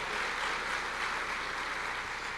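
A congregation applauds the Lord after a Bible reading, a faint, even wash of clapping from a distance that stays steady throughout.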